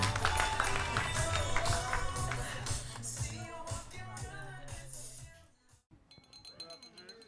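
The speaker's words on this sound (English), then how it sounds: "a round of applause for Mr. and Mrs. Conway" Wedding guests at The Grand Moon Palace in Cancun, Mexico, applaud the newlyweds in a dense round of clapping mixed with clinking glasses and crowd murmur. The clapping fades after about five seconds, leaving a few scattered claps and clinks.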